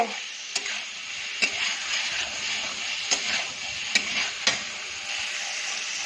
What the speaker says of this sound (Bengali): দেখো কাঁচা মশলাটা আমি কিন্তু সুন্দরভাবে একদম কষিয়ে নিলাম